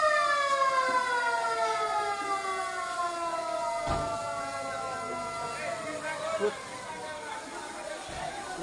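A fire service vehicle's siren wails in long falling and rising sweeps as it arrives at a large fire near a market in Mirpur 11, Dhaka, over crowd chatter and people talking nearby.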